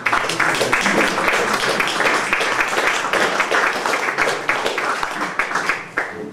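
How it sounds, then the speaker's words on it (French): An audience at an open-stage festival event in a hall applauding, a dense, steady wash of clapping from many hands that carries on throughout and fades slightly at the end. "On peut l'applaudir encore, vraiment,"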